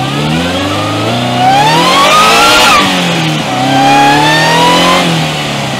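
A Sprintex-supercharged 2022+ car on 91 octane accelerates hard with wheel spin, loud engine climbing in pitch through two pulls with a brief dip between, close and alone without talk.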